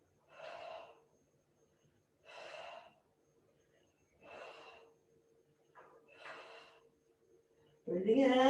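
Four sharp exhalations come at regular two-second intervals during ab curls in a home workout, close and clear, each a short breathy gust, followed by a voice starting to speak at the end.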